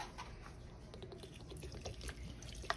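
White vinegar poured from a bottle into a pot of pinto beans seasoned with chicken base, a soft, steady trickle of liquid with faint splashes, close and quiet, with no voices.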